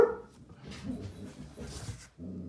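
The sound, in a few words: dog barking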